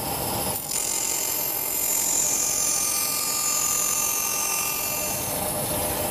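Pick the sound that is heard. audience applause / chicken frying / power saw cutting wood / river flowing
power saw cutting wood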